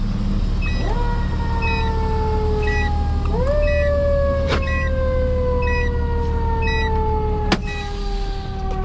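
A fire engine's loud mechanical Q2B siren winds up into a rising growl, restarts, and slowly drones downward, with sharp clicks punctuating it.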